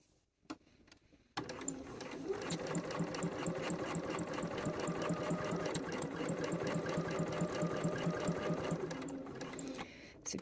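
A sewing machine stitches a shirt sleeve placket in one steady, close run lasting most of the clip, its rapid even needle rhythm starting abruptly after a brief quiet moment and easing off near the end.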